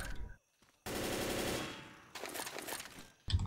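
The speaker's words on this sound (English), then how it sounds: "I'm wondering if shots could go through the tank and hit the zombies on the other side." Rapid gunfire in the zombie shooter Left 4 Dead, aimed at a hulking Tank, comes in two loud sustained bursts of automatic shots separated by a short lull, with brief gaps of silence around them.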